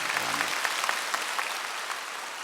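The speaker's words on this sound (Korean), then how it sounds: "박수 한번 하십시오" A church congregation claps together during a Korean sermon, a dense, steady wash of applause lasting throughout, moderately loud and even, with a brief low voice tail at the very start.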